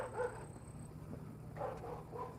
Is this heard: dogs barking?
yes